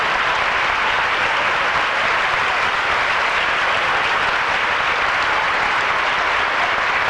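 Congregation applauding during a Pentecostal Quadrangular church baptism service in Campinas, a dense, steady wash of many hands clapping that fills the whole stretch without a break.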